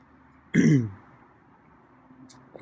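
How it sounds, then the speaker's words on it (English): A single loud throat-clearing cough bursts out close to the mic, then fades into quiet room noise with a faint trailing sound at the end. "I feel like I need to cough again."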